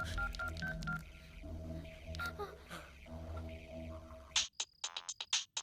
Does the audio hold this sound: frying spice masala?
no